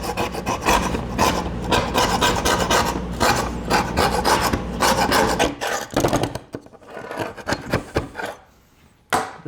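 A hand scraper rasps steadily across painted barn wood in fast, gritty strokes up close, then slows to a few scattered scrapes and short pauses near the end.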